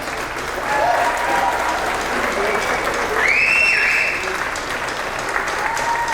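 A high school spring band concert audience breaks into loud, sustained applause, with crowd voices and a brief whistle rising over the clapping.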